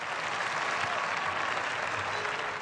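Steady, dense audience applause for Julio Iglesias at a show in Amsterdam, continuous loud clapping from a large crowd filling the whole span.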